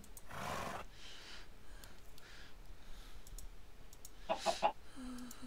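A chicken in the video game Minecraft clucks faintly in short, sparse bursts, with a quick cluster of clucks near the end over a quiet game background.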